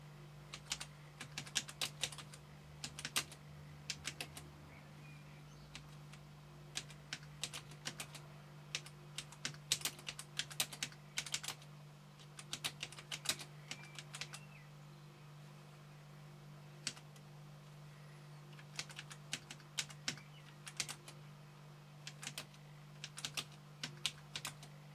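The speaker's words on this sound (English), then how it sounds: "It's quite easy to type. I mean, I'm typing at a funny angle here" Fingers type on the keyboard of an Amstrad NC200 notebook computer, giving quiet, irregular clusters of light key clicks with short pauses, close up over a low steady hum.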